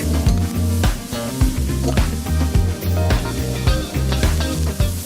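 Loud, steady sizzling of a burger patty smashed and frying on a hot griddle, with a metal spatula scraping and tapping in a rough rhythm.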